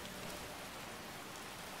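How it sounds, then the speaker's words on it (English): Steady rain pours in the video game Skyrim, a dense, even hiss of falling water that fills the whole moment with no voices over it. "Still raining!"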